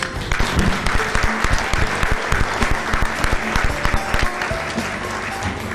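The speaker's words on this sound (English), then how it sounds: "A nice round of applause for everybody." A conference audience applauds panelists after a question-and-answer session, a steady, dense patter of many hands clapping close by that holds evenly throughout, with no talking over it.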